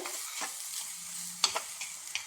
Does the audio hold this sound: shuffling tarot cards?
no